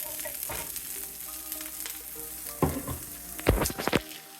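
Frozen broccoli and browned onion sauté in a pan: a sizzling hiss with scraping stirs and a few louder bursts as the spatula moves.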